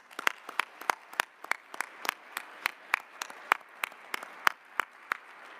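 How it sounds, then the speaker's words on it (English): Sparse, evenly spaced claps from an audience applauding hackathon teams at a GovHack awards event, roughly three per second, crisp and moderately close, with no voices over them. "so let's give them a round of applause"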